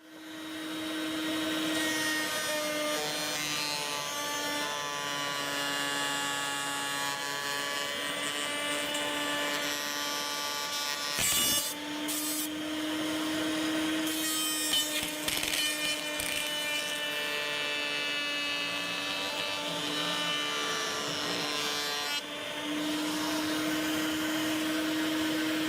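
A router bit spins at high speed in a router table and cuts through a wooden workpiece, making a loud, sustained whine with shifting pitch, broken briefly by a few sharp bursts, with dust collection running and no talking.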